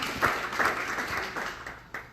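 Audience applause ripples through the room at a women's leadership panel for the South Florida Executive Roundtable, a brief scatter of claps rising in a few soft bursts over about two seconds.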